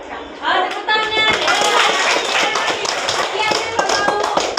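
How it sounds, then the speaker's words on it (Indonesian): A class claps for a few seconds: a dense, steady burst of many close hand claps rises quickly, holds, and then thins out, with a bit of talk mixed in. "Tepuk tangan."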